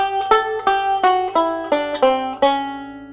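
A banjo plays a lick: seven bright, twangy picked notes in a quick even rhythm, each ringing briefly, close and clear with no voice over them.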